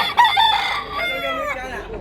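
A bullstag gamefowl rooster crows once up close, a loud strained call that trails off in wavering harmonics, with a person talking faintly at the same time.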